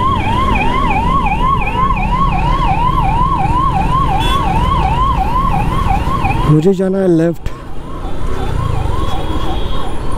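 Wailing ambulance siren sweeping up and down steadily and loud in highway traffic, with vehicle rumble beneath; a brief break near the end where another siren tone cuts in, and someone speaks briefly.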